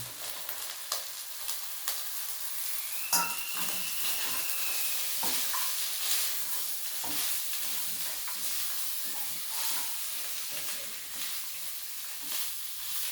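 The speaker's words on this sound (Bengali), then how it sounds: "দিয়ে এবার একটু নাড়িয়ে দেবো, দিয়ে ভেজে রাখা সবজিগুলো আমি দিয়ে দেবো।" Fried vegetables and peas are stirred in a pan for soybean pispas. A continuous moderate sizzle runs under repeated scraping strokes and occasional clinks.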